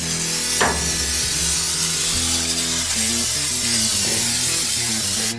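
Canola oil cooking spray hisses from an aerosol can as it coats the inside, racks and cover of a new smoker, one long close spray, almost unbroken, over a low hum with a brief knock partway through.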